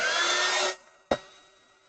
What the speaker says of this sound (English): I'm going to be getting my heat gun out